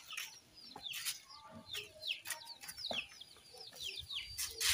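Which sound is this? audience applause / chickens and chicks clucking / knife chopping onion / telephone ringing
chickens and chicks clucking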